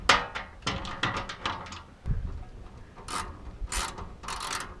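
Ratchet wrench clicking on a bolt during a Fiesta ST rear diffuser install, several bursts of sharp rapid ratcheting close up, broken by short pauses and a dull clunk midway.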